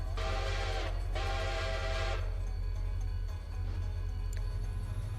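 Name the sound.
Reading 6 locomotive steam whistle in Railroader video game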